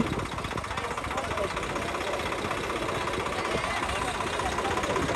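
A New Holland 3630 tractor engine runs steadily during a farm demo, a rough, knocking idle-like drone that stays constant and fairly close throughout.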